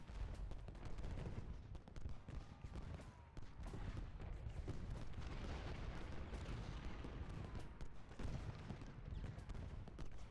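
Artillery and musket fire from the video game Ultimate General: Gettysburg forms a dense, continuous rumble of booms and crackling volleys at moderate volume, with no talk over it.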